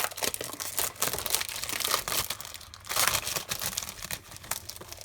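A packet of craft paper is opened and torn with loud, close crinkling and rustling. The plastic crackles continuously for about five seconds with no voices.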